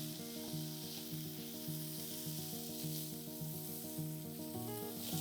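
Onion cubes and capsicum sizzle steadily in a hot pan, a constant bright frying hiss with soft stirring, while gentle background music plays underneath.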